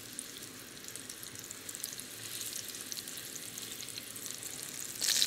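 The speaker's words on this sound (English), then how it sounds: "I'll just toss these around and get them browned on all sides." Meatballs fry and brown in one skillet for a 1941 spaghetti and meatballs recipe, making a steady close sizzle that swells slightly toward the end.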